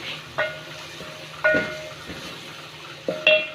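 Black pepper and a couple of cloves fry in a pan with a faint, steady hiss, broken by three sharp metallic clinks of a spoon against the pan.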